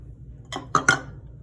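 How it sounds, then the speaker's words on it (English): Dry ingredients, coconut flour and cocoa, are mixed in a bowl, giving a few quick clinks of a utensil against the bowl, close and crisp in an otherwise quiet kitchen. "I'm gonna mix the dry ingredients"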